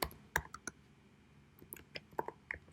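Typing on a computer keyboard while entering a search, a quiet close series of irregular clicking keystrokes in small bursts with pauses between.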